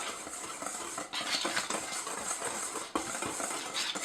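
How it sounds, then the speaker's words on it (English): Flour and cocoa being whisked together in a bowl, giving light scraping and clinking of a whisk against the bowl with a couple of sharper taps, fairly quiet and close. "I'm going to whisk it up."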